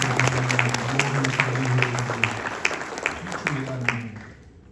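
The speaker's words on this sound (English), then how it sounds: "Let's give a round of applause for all the leaders that take so much time to forward" Steady applause from a crowd at an army retirement ceremony, clapping continuously and gradually thinning out, with a low hum running underneath.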